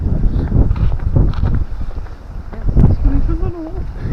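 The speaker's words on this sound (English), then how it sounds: "Right, the old wind's come up. Oh, God, it's blowing here." Strong, bitter cold north wind blowing outdoors by the water, a loud continuous roar and buffeting against the microphone, with someone talking over it.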